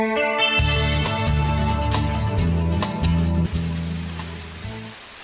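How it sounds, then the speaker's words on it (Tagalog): Heavy rain pours down steadily and loudly, a dense continuous wash with no voices over it. "Patay, nakusog sa uwan."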